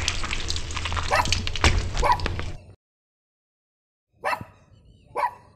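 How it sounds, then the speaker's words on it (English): Dog barking in the GTA 5 video game, a rapid run of loud close barks and yips for nearly three seconds, then silence, then two more separate sharp barks. "cut off the fucking dog"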